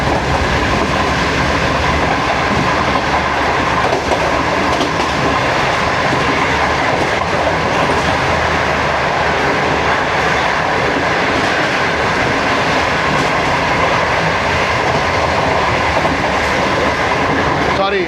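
A moving train in Pakistan overtaking the 14 Down Awam Express, heard from aboard as a loud, continuous rumble with rhythmic clickety-clack of wheels on rails throughout.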